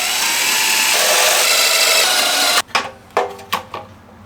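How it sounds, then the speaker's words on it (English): A small drill bit bores a tap hole for a battery mount on a Coleman 200U mini bike, running with a steady, loud whine for about two and a half seconds before stopping, followed by several short, separate bursts. "We just need a small drill bit to make a tap hole."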